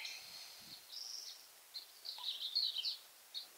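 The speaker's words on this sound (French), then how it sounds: "on est entouré par le chant des oiseaux" Faint, high birdsong drifts in with scattered chirps and trills from a distance, in an otherwise quiet marsh at San Joaquin Marsh in Irvine, California.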